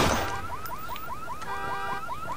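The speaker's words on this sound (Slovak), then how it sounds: "Treba vypnúť alarm, lebo mi to tu bude ondiť." Rapid repeating two-tone warbling car alarm in the video game Watch Dogs, a steady looping electronic siren with rising chirps, moderately loud over light background noise.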